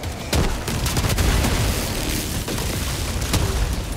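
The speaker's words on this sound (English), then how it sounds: "Grenade launcher" Heavy grenade launcher blasts in Helldivers 2 against a factory strider, a loud continuous barrage of booms and rumbling explosions with a few sharper cracks on top, dense and sustained.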